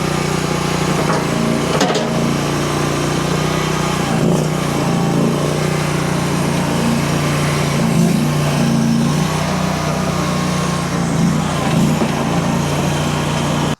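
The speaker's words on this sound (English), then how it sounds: "That 24 horse twin cylinder engine's got a lot of power." Arteer QB-480 mini skid steer with its 24 horsepower twin cylinder engine, running steadily and close by with a constant droning hum and slight surges in pitch, no talking over it.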